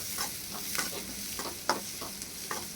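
Large onions sautéing in oil in a pan for an egg curry, with a soft steady sizzle broken by a series of scraping stirs of the spoon, close and fairly quiet.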